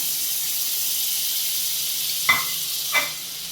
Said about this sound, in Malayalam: അതിലേക്ക് നമുക്ക് എടുത്ത് വെച്ചിരിക്കുന്ന 2 ബട്ടറിൻ്റെ ക്യൂബ്സ് ഇട്ട് കൊടുക്കാം.